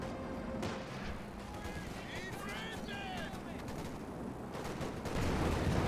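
Machine gun fire in the video game Company of Heroes 2, distant rattling bursts and artillery booms across a busy battlefield, with a commentator's voice talking over the fighting throughout.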